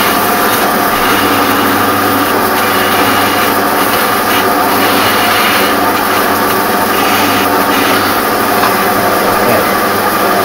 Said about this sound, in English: I used the cutting grinder disc, but I don't know.